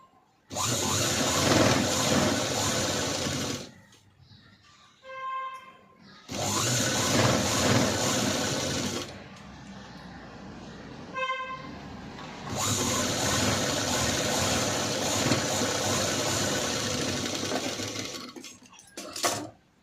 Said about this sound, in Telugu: మీకు ఇలా చూపిస్తున్న విధంగా నీట్గా స్టిచ్చింగ్ వేసుకోవాలి.